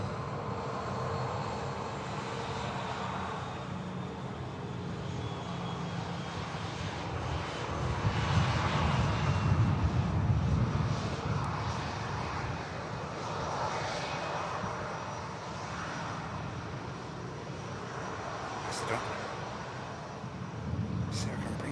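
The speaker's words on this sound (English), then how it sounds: "Ryanair next to touch down." A Ryanair airliner comes in to land at Manchester Airport, its engines a broad, steady roar that swells midway and holds at moderate distance, with some talk over it.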